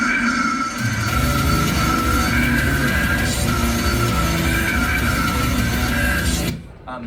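AI-generated death metal, a dense, loud, distorted wall of noisy guitars and drums that rages continuously for several seconds before cutting off abruptly.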